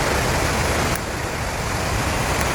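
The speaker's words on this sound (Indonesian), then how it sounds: "yang mengalirkan air yang tumpah dari jeram atau dari curug" River water rushes down from a waterfall in a steady, dense roar that fills the whole clip without any break.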